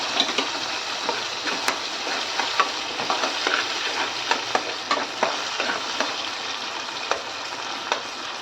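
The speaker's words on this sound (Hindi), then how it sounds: "जीरा के चटकते हम इसमें डाल देंगे अपनी टोमेटो प्यूरी।" Tomato puree sizzles and crackles loudly and continuously in hot oil with cumin up close, with small pops and occasional scraping stirs throughout.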